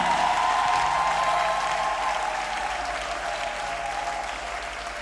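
A church congregation at a Mass prayer service applauding together, a steady dense wash of clapping that fills the whole stretch and fades slightly toward the end.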